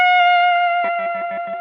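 An electric guitar plays a distorted, sustained bent note with a clumsy vibrato. After a steady start, uneven wobbling pulses come in partway through, loud and solo.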